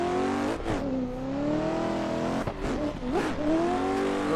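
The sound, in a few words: drift car accelerating through a bank with tire squeal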